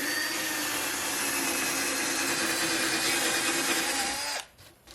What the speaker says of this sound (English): Cock the drill over towards me.